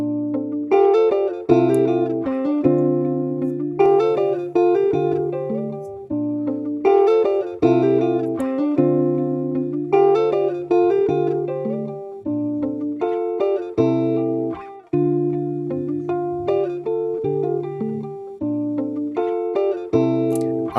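A looping sample pitch-shifted three semitones on an MPC, keys and bass chords, repeats in an even rhythm, moderately loud and uninterrupted by voices.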